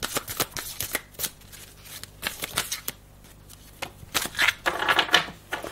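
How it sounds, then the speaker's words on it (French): Tarot cards are drawn and shuffled by hand in a series of crisp riffling and snapping bursts with short pauses between them, close and moderately loud. "Tu peux me tirer 3 cartes."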